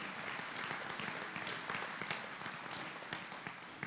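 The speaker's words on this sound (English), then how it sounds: "we can clap for that" A church congregation claps after a Sunday sermon, a fairly quiet, slightly distant patter of many hands that runs steadily throughout without any talking.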